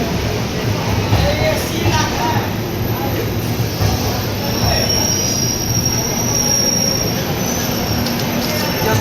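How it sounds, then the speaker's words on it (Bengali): Indian passenger train 16730 Punalur–Madurai Express pulls into a station with loud, continuous metallic wheel squeal over the low rumble of rolling carriages, sustained and close throughout. "আমাদের ঢুকছে 16730 পুনালুর মাদুরাই এক্সপ্রেস।"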